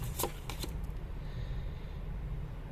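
Tarot cards are shuffled and pulled from a deck, giving a few quick close riffles and soft papery flicks near the start, then quiet room tone.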